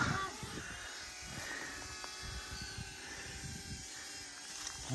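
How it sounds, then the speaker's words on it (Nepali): Small camera drone flying over a village, a steady high buzzing whine sustained throughout at moderate distance, with faint voices and background noise underneath. "उडिरहेको छ ड्रोन"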